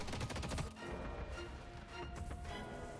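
Rapid bursts of gunfire as troopers shoot the guardian in the video game Deadlock, a dense crackling volley at the start easing into quieter scattered shots, faint and somewhat distant.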